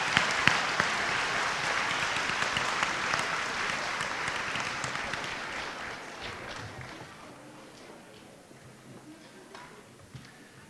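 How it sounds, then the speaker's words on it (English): A school audience at a high school Veterans Day ceremony applauds fifth grade helpers, a full burst of many hands clapping that gradually thins and fades away toward the end. "let's give our 5th grade helpers another round of applause"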